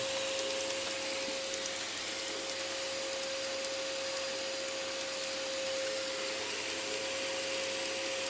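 UPS seed metering unit on a seed drill running, a continuous even mechanical whir with a steady tonal hum, unchanging from start to end and no voices.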